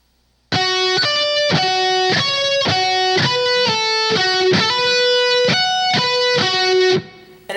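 Distorted electric guitar plays a slow power metal solo lick of evenly spaced picked notes, each one ringing with a crunchy, sustained tone before the next.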